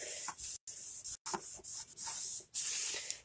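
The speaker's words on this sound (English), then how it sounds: "my little spray bottle." Quick hissing squirts from a small spray bottle misting a chalkboard, about five short bursts in an uneven rhythm with brief gaps between them, close and clear with no talking.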